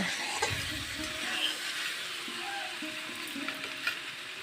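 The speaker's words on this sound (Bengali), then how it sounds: "আমার ভালো করে সাতলানো হয়ে গেছে কাঁঠালটা। এখন আমি অল্প জল দিয়ে দেব।" A little water splashes into jackfruit curry frying in a pan, raising a broad hiss and sizzle with faint bubbling and a few soft stirring knocks. It is close and steady, with no voices.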